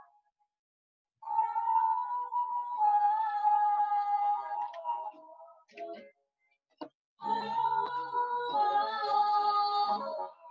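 A melodic sample is played on an Akai Fire pad controller, MPC-style: sustained tonal phrases with a clear pitched line, broken by short gaps and clipped fragments, fairly quiet and without talk.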